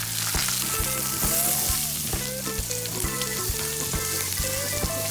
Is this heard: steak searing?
yes